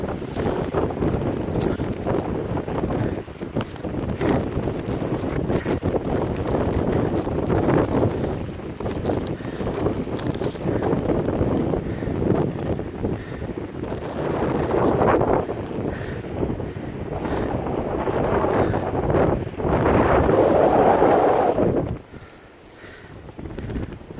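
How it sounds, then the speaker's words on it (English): Strong wind gusts buffet the microphone on an Appalachian Trail mountain section near Cheoah Bald, roaring and surging in waves for most of the stretch before dropping off suddenly near the end. "With this wind blowing the way it is, I'm getting chilly."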